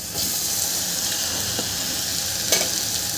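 Ground masala paste going into pink fried onions in a pan for tondali bhat, a continuous close sizzle with faint stirring scrapes and one brief clatter.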